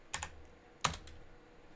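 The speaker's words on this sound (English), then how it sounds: "we're typing" A computer keyboard clacks in two quick bursts of keystrokes separated by a pause, close and fairly quiet, with no voices.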